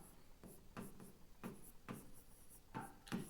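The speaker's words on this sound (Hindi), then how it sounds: "तो मैं यहां लिखता हूं" Pen writing Urdu letters on paper: a run of short scratchy strokes in an uneven rhythm, close and fairly quiet, with no talking.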